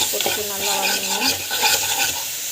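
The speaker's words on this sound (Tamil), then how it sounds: "உப்பு போட்டுட்டு நல்லா வதங்கணும்" Masala sautés with salt in a pan, a continuous close hissing sizzle with a spoon scraping and stirring through it and a faint voice in the background.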